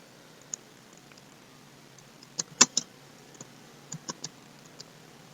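Typing on a computer keyboard while writing HTML code, sparse light key clicks in small clusters with one sharper tap in the middle, close and fairly quiet over a faint background hiss.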